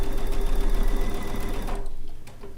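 A sewing machine runs a seam at a short stitch length, its close, steady rhythmic whir lasting almost two seconds before cutting off into a quiet room.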